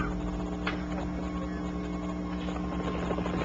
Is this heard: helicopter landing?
yes